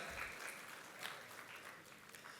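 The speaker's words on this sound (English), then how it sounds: "Can we have a huge round of applause for Mohammad Talwala as well?" Steady audience clapping throughout, a sustained wash of applause at moderate level with no voices.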